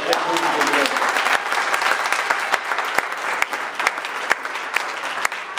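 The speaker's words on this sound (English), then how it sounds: "Let's give her another round of applause." A round of applause from a congregation at a Sunday school awards event, steady clapping with sharp individual claps popping out and murmuring voices underneath.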